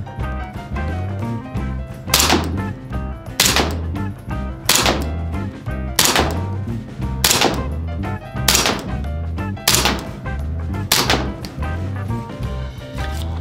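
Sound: GBLS M1911A1 full-steel gas handgun firing a seven-round magazine

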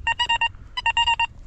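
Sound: metal detector signal tone while digging

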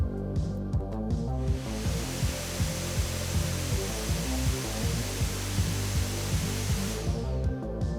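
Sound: laptop cooling fans whistling

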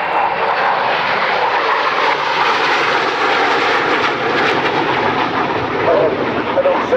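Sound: Hawker Hunter F.58 jet engine during air display

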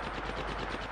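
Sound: gunshots in Apex Legends video game

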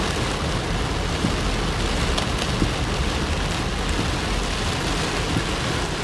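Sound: heavy rain

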